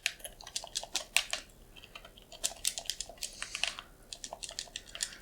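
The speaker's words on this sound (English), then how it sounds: "This is just a membrane keyboard on my laptop." Fingers type on a laptop's membrane keyboard, producing quick irregular soft clicks and taps in bursts, close to the microphone and fairly quiet, with no talking.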